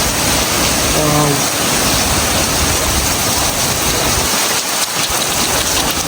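Heavy storm rain in Canada pours down steadily, loud and close, with a brief faint voice early on.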